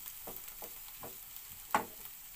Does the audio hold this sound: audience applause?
no